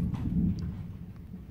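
Low rumbling thunder rolls through a heavy rainstorm at a house, a broad deep swell that fades over a second or so, heard alone with no voices.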